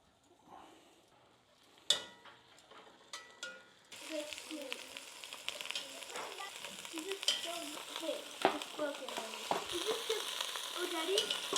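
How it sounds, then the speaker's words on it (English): Meat searing in avocado oil in a hot pan: a few sharp taps at first, then a steady, close crackling sizzle with spattering pops that continues to the end, moderately quiet, with no talking. "All I'm doing is searing each side for a hot second"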